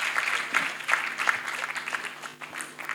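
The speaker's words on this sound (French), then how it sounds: "rythmer chacun de ses pas avec des applaudissements" An audience at the ASCOM 2024 event claps to accompany a person walking on stage, fairly steady but slightly uneven applause at moderate volume, with distinct hand strikes audible across the crowd.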